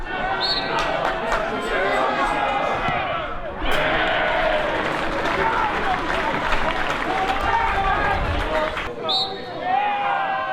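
A football crowd bays and roars throughout a penalty shootout, a dense, loud wall of shouting, whistling and chatter with no let-up.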